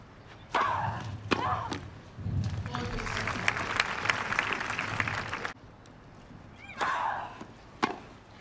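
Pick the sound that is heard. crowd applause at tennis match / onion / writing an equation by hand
crowd applause at tennis match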